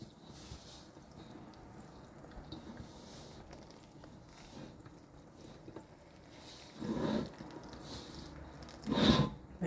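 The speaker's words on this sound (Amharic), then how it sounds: "አሁን ይሄንን እንግዲህ እሽት አድርጌ ለሰስ ባለ ውሃ አብኩቼ" Dough is kneaded by hand with lukewarm water, producing soft, wet squishing and slapping sounds up close that grow louder in a few heavier presses toward the end.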